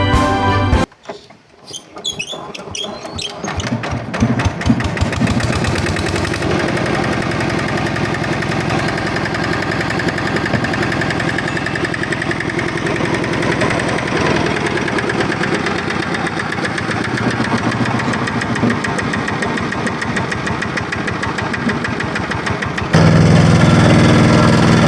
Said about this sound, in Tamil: அதே நேரம் நாங்கள் இந்த ஆக்சிலேட்டரை ரேஸ் பண்ணி பார்ப்போம் என்ன மாதிரி இது ஃபங்க்ஷன் பண்ணுதுன்னு சொல்லி.